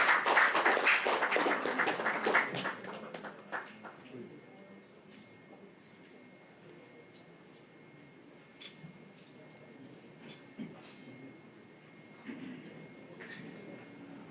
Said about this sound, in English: Ladies and gentlemen, once again, please, a round of applause to Dr. Stephen Akintayo.